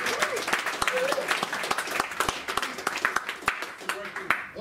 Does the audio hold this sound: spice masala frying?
no